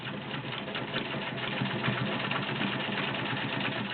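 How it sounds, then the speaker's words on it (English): A vintage White 970 Selectronic electric sewing machine stitching through two layers of fabric, running at a steady medium speed with a smooth, even mechanical whir and rapid needle ticking, close up and alone. "This is just a regular 2-layer sample, so I can show you how it sews."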